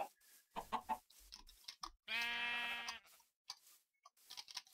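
A sheep in the video game Minecraft gives one drawn-out bleat, quiet overall, set among faint clicks and short game sounds before and after it.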